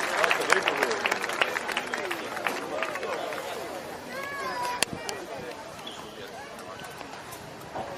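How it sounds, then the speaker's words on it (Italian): Spectators at a horse show in Oristano, Sardinia, applaud with scattered claps, while hooves and crowd chatter carry underneath and a voice speaks over the scene. "un applauso ancora per lei"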